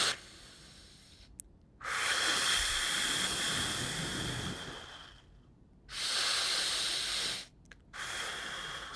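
Slow, deep breathing during a lower back stretch, with long airy inhales and exhales that alternate at an unhurried pace, close and steady with short quiet gaps between breaths.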